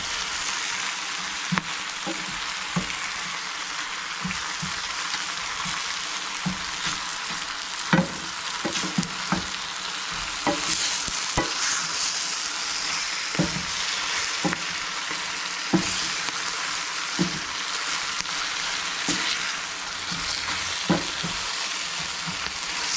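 Alugbati (Malabar spinach) sautéing in a pan gives a steady, close sizzle and frying hiss. Frequent soft clicks and scrapes from stirring break through at irregular intervals.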